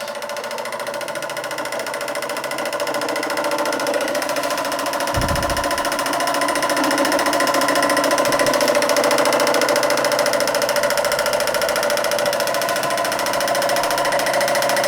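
A Josef Falk vertical boiler model steam engine running steadily, a continuous even mechanical whir and hum with a brief low thump partway through, close and unaccompanied by talk.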